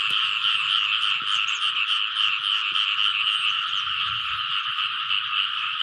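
Dense chorus of frogs croaking steadily around a village after rainfall, a continuous layered trilling with scattered low calls underneath, fairly close and loud throughout, with no voices.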